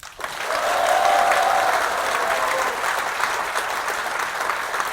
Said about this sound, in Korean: 다시 한번 박수를 보내달라고 호소합니다